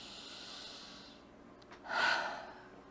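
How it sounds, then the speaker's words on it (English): A single deep breath, drawn in softly and then released as a louder, audible exhale near the end, close and alone over a faint background hiss. "Big, deep breath."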